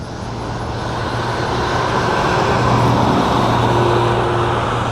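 A 1967 Ford F100 pickup truck engine hums steadily as it passes nearby, its broad road noise swelling gently toward the middle and holding, with no voices.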